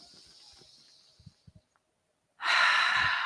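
A deep breath during a yoga session, a soft drawn-in inhale followed by a sharp, loud breathy exhale near the end, with quiet faint sounds before it.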